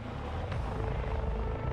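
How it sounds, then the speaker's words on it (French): A helicopter arriving makes a steady low rotor drone with a constant rumbling throb, moderately loud and unbroken throughout. "Dès que l'hélicoptère de Trisha est parti, un autre est arrivé pour moi"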